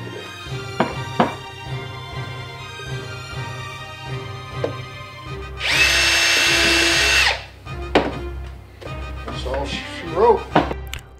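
A power drill boring holes for a speaker adapter in Harley-Davidson fairing lowers whines loudly for about two seconds, close up, amid clunks and handling noises, with someone talking before and after.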